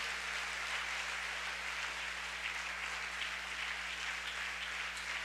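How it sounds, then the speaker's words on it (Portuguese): A congregation claps in a church service, a continuous, even wash of applause heard at a modest level with a low steady hum beneath it and no voices on top. "Dê uma salva de palmas a ele."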